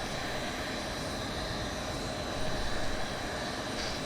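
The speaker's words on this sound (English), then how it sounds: "we'll go ahead and flip our engine start switch to start" A simulated aircraft engine spins up during start in X-Plane 11 flight simulator, a steady broadband roar and whine with a slight surge partway through, continuous and fairly loud with no talking.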